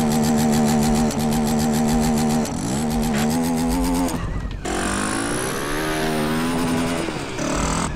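A motorcycle engine in the video game GTA, a Honda XRE trail bike, drones loudly and steadily with shifting revs and a brief dip in pitch midway, filling the whole clip without talk.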